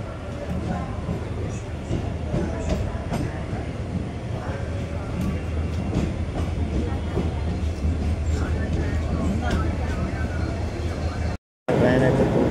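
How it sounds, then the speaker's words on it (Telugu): Guntur–Aurangabad Express 17253 pulling away from Parbhani Junction, a loud, steady rolling rumble of coaches on rails that continues throughout, broken by a brief dropout near the end. "పర్వాణి జంక్షన్ నుంచి అయితే మన ట్రైన్ అయితే ఇప్పుడు డిపార్ట్ అయింది"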